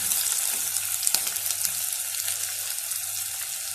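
Sliced onion frying in a pan for peas pulao produces a bright, continuous crackling sizzle, close and even, with a couple of faint taps from stirring and nobody speaking.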